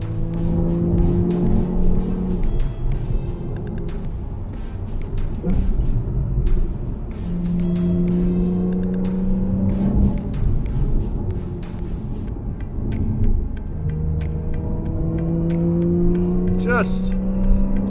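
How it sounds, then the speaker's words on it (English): A 2015 Porsche 911 Carrera 4S flat-six engine drones and rises in pitch through PDK gear changes while driving, heard from inside the cabin with the top up. "with the top up, you do significantly hear the engine more"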